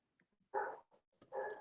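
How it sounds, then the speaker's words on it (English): A dog at a club chapter meeting gives two short, loud barks about a second apart, close and clear, with no talk over them. "Besides the dog?"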